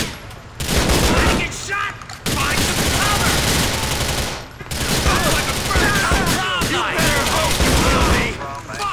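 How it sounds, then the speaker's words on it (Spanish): Rapid sustained gunfire in GTA IV: The Lost and the Damned, loud dense bursts of automatic shots running nearly the whole time with brief pauses, a voice talking over parts of it. "Miren, miren cómo dispara."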